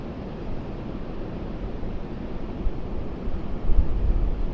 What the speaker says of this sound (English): Just listen to the sound of the sea.